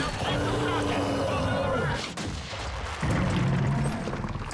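Missiles launch in Gears of War 4 with booming blasts and a roaring rush, then a brief lull before another loud burst of firing.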